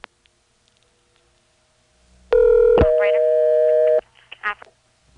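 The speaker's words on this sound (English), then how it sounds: "Here's dialing 0 normally from Jefferson." Dialing 0 on a telephone line in Jefferson, Georgia: a brief click, then a loud steady multi-tone signal for about a second and a half, followed by a short warbling class-of-service tone, with faint sounds trailing afterward.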